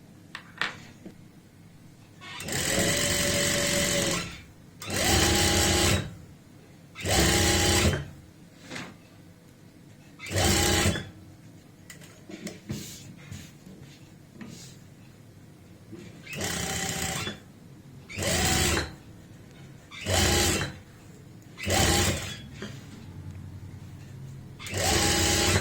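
A sewing machine with a single presser foot runs in repeated bursts of stitching, joining a strip of piping onto an apple-cut kurti, with short pauses and quiet background hum between runs.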